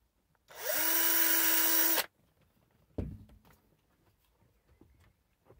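A power drill spins up and drills loudly for about a second and a half, then stops; a dull knock follows, then quiet shuffling.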